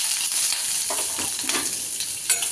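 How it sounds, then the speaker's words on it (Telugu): Onions fry in hot oil with a constant bright sizzle and faint stirring scrapes, loud and close, with no voices. "ముందు ఏంటంటే ఈ ఉల్లిపాయల్ని కొంచెం వేయించుకోవాలి"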